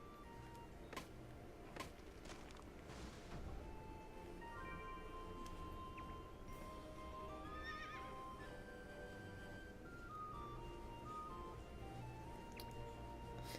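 Horse whinnying with clip-clopping hooves in the video game Fantasy Life, heard over steady game music, with a clear neigh rising around the middle of the stretch.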